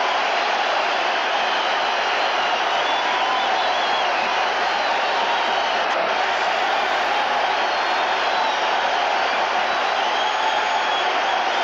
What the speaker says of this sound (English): The ovation continues as play